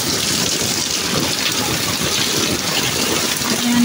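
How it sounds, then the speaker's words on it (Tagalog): Heavy typhoon rain pours down outdoors in Silang, Cavite, Philippines, a dense, loud, constant hiss and roar of water with no pause throughout. "tuloy-tuloy pa rin yung ulan"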